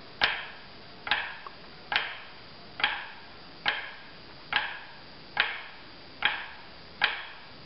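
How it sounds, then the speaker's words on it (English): A well-played drum flam, struck repeatedly at a slow, very even pulse: nine crisp, loud hits about 0.85 seconds apart, each a sharp attack with a short ringing decay, alone with no talk. "Good flam sounds like this."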